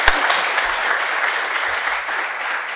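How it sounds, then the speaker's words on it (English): An audience applauds after a debate on whether it is rational to be a Christian, a loud, dense, sustained burst of clapping from a sizable crowd, with no talking over it. "Let's give them a round of applause."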